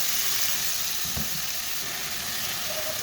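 Chopped onions sizzle and fry in heating oil for stuffing mix, a steady loud crackling hiss throughout with a few soft knocks of a spoon stirring in the pan.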